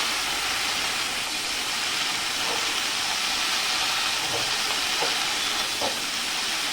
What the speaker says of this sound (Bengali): এরকম শাক লাউ ডাঁটাটা একটু এদিক ওদিক করে নেবে তেলে।